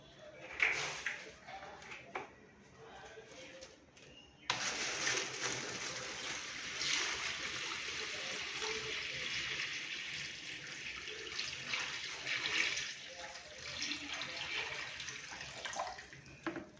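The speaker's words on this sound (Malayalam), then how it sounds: "സോ നമുക്കിനി വെള്ളം ഒഴിക്കാം." Water splashes steadily into a homemade plastic-bag fish tank for guppies, starting abruptly a few seconds in and continuing as a close, continuous pour with a little faint background noise before it.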